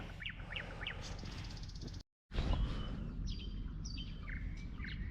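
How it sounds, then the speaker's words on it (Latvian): Birds chirping at a pond in the morning: repeated quick rising calls with bright twittering, plus low duck-like quacking beneath. The sound drops out briefly midway and then resumes at a similar moderate level, with no talk. "Putni čivina, viss pārējais."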